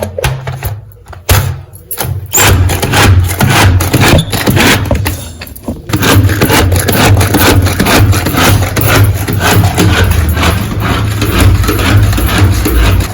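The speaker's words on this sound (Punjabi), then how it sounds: "ਤੇ ਹੁਣ ਪਿਆਜ਼ ਨੂੰ ਚੋਪਰ ਚ ਚੰਗੀ ਤਰ੍ਹਾਂ ਕੱਟ ਲਾਂਗੇ" A manual food chopper chopping onion and garlic makes a continuous loud rough grinding and rattling, with a few knocks at the start, close up.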